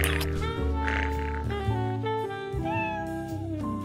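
A cat meows repeatedly under a dense, loud bed of tonal music, with a few bright mewing calls rising out of the busy sound.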